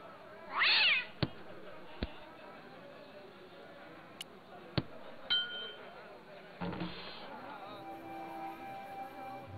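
A single clear cat meow near the start from the video game Broken Sword, followed by scattered sharp clicks and pings over a low background hum.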